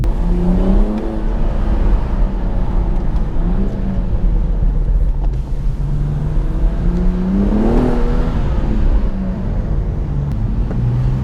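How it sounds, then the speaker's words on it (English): A BMW M235i rear-wheel-drive engine drones steadily while driving, its pitch rising and falling with gear changes and acceleration, close and loud with road noise underneath. "It's always nice to drive a rear wheel drive car after a while."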